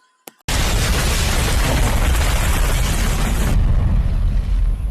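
A sudden, massive bomb blast in the film Triple Threat erupts after a faint click, then gives way to a sustained, loud roaring rumble.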